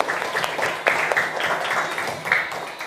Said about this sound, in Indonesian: Tepuk tangan buat kelas 4.